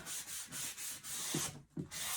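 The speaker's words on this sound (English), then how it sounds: "I've just run the sanding sponge over it. This is a technique called wet sanding" Repeated back-and-forth rubbing of a sanding sponge wet sanding a painted wooden blanket box, a steady rhythmic swishing with short pauses, close and clear.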